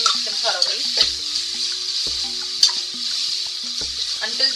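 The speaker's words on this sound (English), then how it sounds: "The ginger and garlic also has got sauteed very well." Minced ginger and garlic sauté in a pan with a bright, steady sizzle and crackle, broken by several scraping stirs of a utensil against the pan, close and fairly loud.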